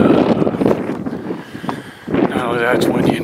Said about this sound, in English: Oh, that's windy and cold. You can hear it.